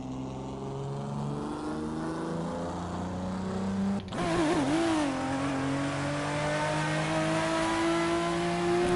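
A Honda Civic engine in the racing game Assetto Corsa drones steadily, dips briefly, then revs up and holds a higher, buzzing exhaust tone, loud and continuous.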